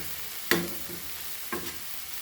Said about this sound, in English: Fry this for few minutes